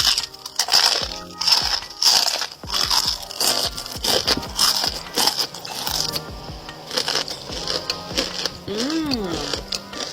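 Crispy bitter melon chips being chewed, loud close crunching bites repeating rapidly, with a voice speaking in between and over the crunches.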